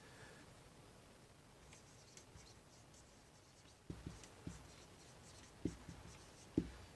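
Marker or chalk writing on a board in a math lecture: faint scratching strokes that turn into a few sharper taps and squeaks near the end, quiet and with no talking.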